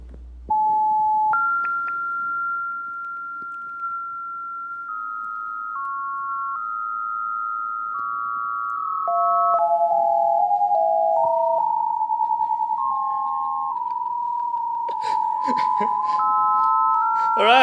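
Several phones play oscillator tones, a steady electronic pitch that steps up and down through small variations. Later the notes overlap and waver, and bursts of clicky noise come in near the end. The sound is loud and close.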